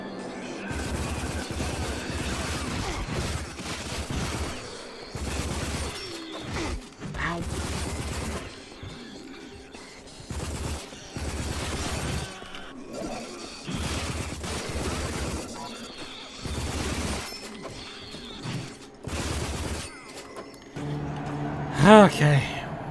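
Gunfire rattles in bursts through a combat stretch of the shooter game Rage, with repeated volleys broken by short gaps, under frequent talking from a player.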